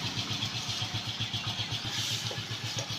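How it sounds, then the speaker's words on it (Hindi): An iSmart 110cc motorcycle engine runs steadily after a timing repair, a close, continuous mid-pitched putter with an even rhythmic pulse and no talk. "तो ये है 110 और इसका पूरी तरीके से इंजन हल हो चुका है।"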